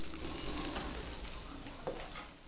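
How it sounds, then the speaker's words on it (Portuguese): Linguiça sausage fries in a pan with no added oil, giving a steady, close crackling sizzle throughout with no talk. "Ó, já coloquei a linguiça aqui pra ir fritando."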